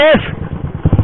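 A Royal Enfield Bullet 350 motorcycle engine revs up for a street race, a short rising engine whine at the start that is quickly buried under loud, excited talk close to the mic.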